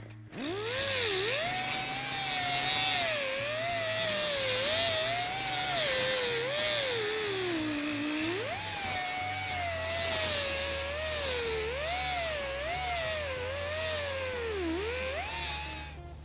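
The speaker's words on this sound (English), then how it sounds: "I'm using a 36 grit to start, and that'll cut the top of that weld off so that we can planish it out back flat" A grinder with a 36-grit disc cuts down a weld on the steel cowl panel of a 1961 Ford Thunderbird, giving a loud, continuous whine whose pitch wavers up and down as the load changes, with no talking.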